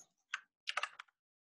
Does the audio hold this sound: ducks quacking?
no